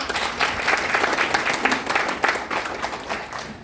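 Audience applause in a seminar hall in Batam as a guest is called up to the front, a steady wash of many hands clapping at moderate loudness with no one speaking over it.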